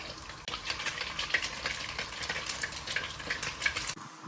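Eggs fry in hot oil over high heat with a steady, close crackling sizzle that runs unbroken for a few seconds, and no one talks.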